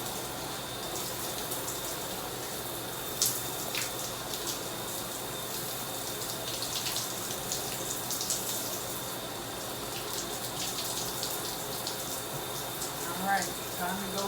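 Running water rinses starter locs during a hair wash, a steady broadband rush that continues for the whole stretch, close and moderately loud, with faint voice sounds beneath it.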